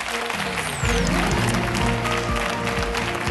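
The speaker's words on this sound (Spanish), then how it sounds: "Un aplauso para él y feliz año." A studio audience on a Spanish regional television talk show applauds a departing guest, with the clapping mixed under loud, swelling theme music.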